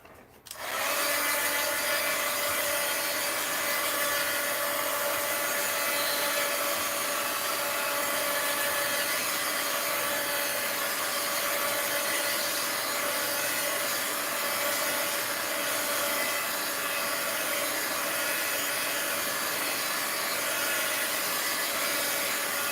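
A heat tool switches on and blows steadily to heat-set paint in an art journal, a loud, even whirring hiss with a faint tonal whine that holds unchanged for over twenty seconds.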